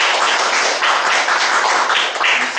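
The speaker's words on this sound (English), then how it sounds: "I think we need to give a round of applause to Manoj and Gautam" Round of applause for speakers at a professional speakers' forum meeting, a full, even burst of many hands clapping throughout, loud and close with no voices.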